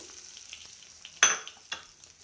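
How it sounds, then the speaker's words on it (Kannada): Hot oggarane tempering poured into coconut chutney gives a sudden loud sizzling burst that fades quickly, followed by a second, smaller hiss a moment later. "ಈ ಒಗ್ಗರಣೆ ಚಟ್ನಿಗೆ ಹಾಕ್ಕೊಳ್ತಾ ಇದ್ದೀನಿ"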